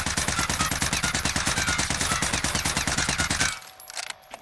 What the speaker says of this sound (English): So let's shoot this 45 rounds here